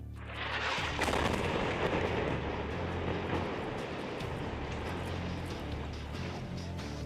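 A deep, sustained bomb blast roar fills the clip after a sharp onset, rumbling loudly with crackling debris and no voices.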